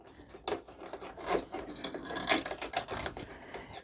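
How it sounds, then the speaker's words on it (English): Black thread passes through the guides and slots of a Brother PE770 embroidery machine with the presser foot raised, making a few close, soft clicks and scratchy rubbing sounds in an irregular run, with no voices. "sometimes you hear like the little clicks where it's actually going through the different slots to get it in place"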